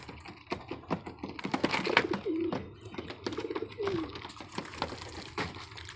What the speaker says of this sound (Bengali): এই যে কিছু উপরেও কবুতর উঠতেছে ঘরটার বাইরে, যে আরো কবুতর আছে এদের।